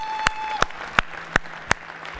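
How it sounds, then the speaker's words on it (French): Five sharp hand claps in a slow, even rhythm, close and fairly loud, over a quiet room hum. "Oui, ça mérite qu'on l'applaudisse."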